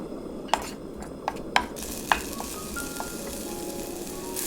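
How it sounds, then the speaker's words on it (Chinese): Scallions stir-fry in oil in a heated clay pot, with several sharp utensil clicks at first, then a fuller crackling sizzle that holds steady to the end. "先将砂锅烧热，加入食用油，将小葱炒香"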